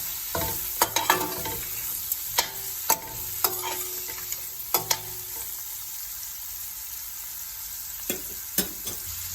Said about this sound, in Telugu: కొంచెం హింగ్, పసుపు, ఉల్లిపాయలు, ఆనియన్ ఫ్రై అయ్యేదాకా ఫ్రై చేసుకోవాలి